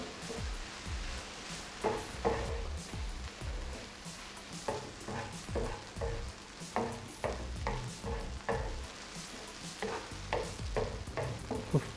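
A tomato and mushroom vegetable mix frying on a stove sizzles steadily while a utensil stirs and scrapes it in repeated rhythmic strokes, close and moderately loud.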